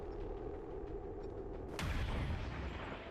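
A single gunshot fired in the XCOM 2 video game, a sharp loud crack followed by a short booming decay, heard alone.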